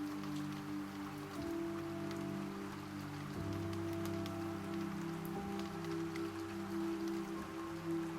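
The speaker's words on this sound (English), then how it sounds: "listening to rain" Steady rain falls continuously on a surface in a warm lamplit room, a soft even patter with a low hum beneath it and no voices.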